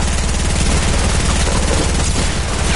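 Rapid automatic gunfire in the video game Fortnite, dense bursts of shots rattling loudly and continuously at close range, no voices over it.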